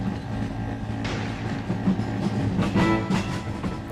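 A train arrives at Pinto station on the border of Santiago del Estero and Santa Fe, a steady rumbling mechanical roll with low hum and some clanking, fairly loud and continuous, with no voices.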